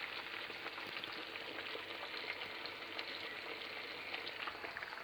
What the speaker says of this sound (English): Whilst lunch is slowly simmering